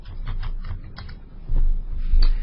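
Typing on a computer keyboard, a quick run of close key taps in an irregular rhythm over a low hum, with no talk.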